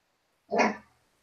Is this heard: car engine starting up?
no